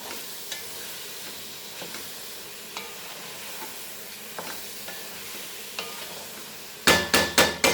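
Mutton Kolhapuri sukha being stirred in a pan, with soft, intermittent scraping taps over a steady sizzle, ending in a few sharp, louder knocks against the pan.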